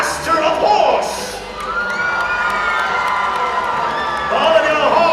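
A large audience at a Medieval Times show cheers and shouts in a loud, sustained roar, with children's high-pitched yells and whoops rising and falling throughout the crowd.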